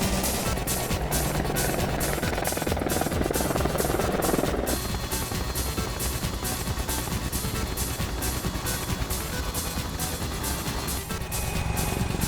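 An Apache Longbow attack helicopter in flight gives a steady, loud rotor drone with rapid regular blade chop running throughout.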